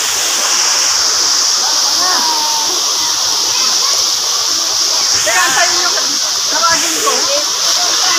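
Lambingan Falls waterfall pours with a loud, steady broadband rush that stays constant throughout, with people's voices chattering faintly beneath the roar of the water.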